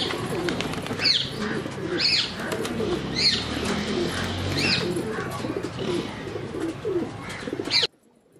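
Home-bred pigeons in a pigeon-keeping setup, cooing in repeated soft throaty calls roughly every second, fairly close, over a steady murmur of background noise with no talking.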